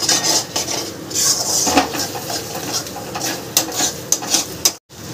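Fried prawns are stirred into pointed gourd curry in a pan, loud metal spatula strikes and scrapes against the pan in uneven bursts, close, ending in a brief silence.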